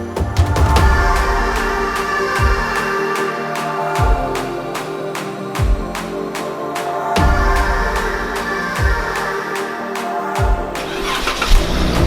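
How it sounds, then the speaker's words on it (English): A Jeep Wrangler JKU with a 3.6L V6 and a Dynomax Ultra Flo cat-back exhaust fires up in a series of repeated starts and short revs, each one a loud burst that drops back, with no talking. "now we're ready to see what this puppy sounds like"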